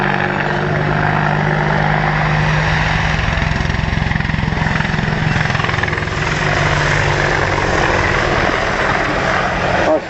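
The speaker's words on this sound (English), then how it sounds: "Nice topside there as the helicopter recovers to land" A British Army Apache attack helicopter flies nearby in an air display, with a continuous loud rotor and engine roar that stays steady throughout.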